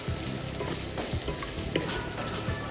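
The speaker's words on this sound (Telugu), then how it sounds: "ఒకసారి కలుపుకొని" A spiced potato filling with garam masala is stirred in a hot pan, giving a continuous close sizzle and frying crackle with soft scraping strokes of the spoon and no talking.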